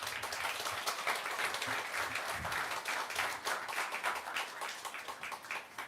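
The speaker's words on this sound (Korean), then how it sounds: "3명의 청년들을 호명하고 앞으로 올 때 큰 박수 부탁드립니다" Warm, even applause from a church congregation as three young scholarship recipients come forward, steady clapping throughout at a modest level with no talking.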